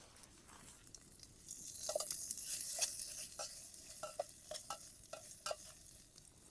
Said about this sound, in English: basically we're gonna fry this sausage up a bit.